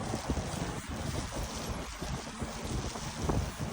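Steady wind blowing across the microphone during the first snowfall of the year in Paris, France, a constant broadband rush with low gusty rumbles throughout.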